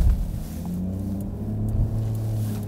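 Porsche Cayenne E2 Facelift engine under load while climbing an off-road obstacle, a steady low rumble that swells slightly, close and loud with no talking.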